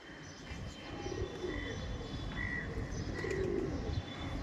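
Pigeons at a busy outdoor market for red pigeon breeds, with soft cooing and chirps rising over steady crowd noise and murmur, birds close by and moderately loud throughout.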